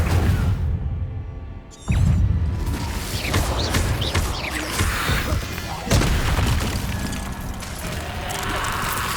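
An Incendio fire spell erupts in Hogwarts Legacy on PS5, a sudden loud whooshing boom followed by roaring flames and crackle, then a second burst a few seconds later, with some speech mixed in.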